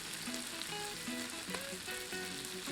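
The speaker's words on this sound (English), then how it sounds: "we make some space in the middle and add cooking oil, then place the shrimp to cook" Shrimp sizzling in hot cooking oil in a space cleared among pad Thai noodles, a dense steady frying hiss with a faint tonal sound running beneath it, close and without talk.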